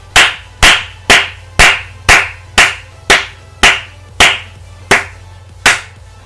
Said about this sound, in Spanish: Ahora, venga, un aplauso.